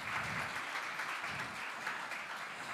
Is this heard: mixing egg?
no